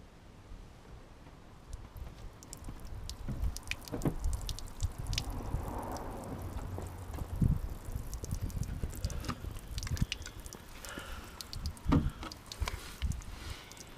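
Water runs through a caravan waste water pipe during a test, giving irregular drips, squishy gurgles and trickles at moderate level for about fourteen seconds, with no talking.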